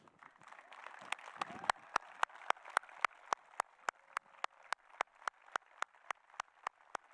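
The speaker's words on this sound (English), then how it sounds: "Let's all stand and provide these teachers with a rousing applause." Retiring teachers at the Fargo North High School 2020 graduation ceremony are applauded by a standing audience, with a diffuse crowd wash pierced by a steady beat of sharp, evenly spaced claps that runs from start to finish.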